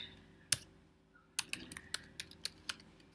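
Typing on a computer keyboard while company names are entered: one isolated keystroke, a pause, then a quick irregular run of sharp clicks, close and clear with no voices.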